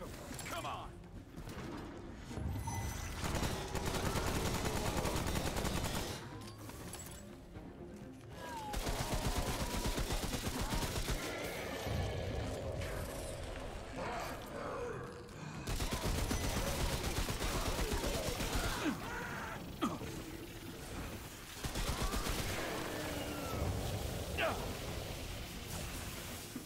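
Rapid bursts of gunfire from the video game Remnant: From the Ashes, fought against a root chain gunner, crackle loudly and near-continuously in several long volleys under excited talk.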